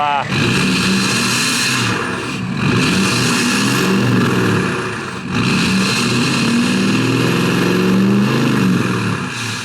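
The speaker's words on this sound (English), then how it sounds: "what would some exhaust clips be without a little rev?" A large diesel truck engine revs up and down several times in slow surges, loud and close, with a rough, rumbling tone between pulls.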